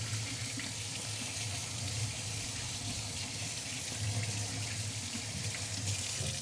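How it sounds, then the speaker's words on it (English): Tap water runs steadily into a sink as hands are rinsed under the stream, a close, continuous splashing wash with no talking over it. "Rinse the old hands."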